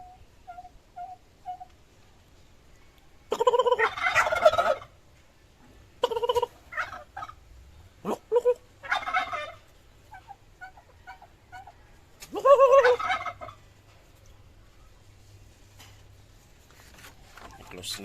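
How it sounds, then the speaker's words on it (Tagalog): Bursts of turkey gobbling and bird calls come in clusters, with some quieter clucks and low background noise between them. "Mga alaga niya pabo."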